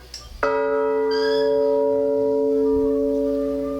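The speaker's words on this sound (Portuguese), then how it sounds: "o badalo tá aqui, pesado" A large church bell with a heavy clapper is struck once, ringing out with a deep, sustained hum that slowly fades.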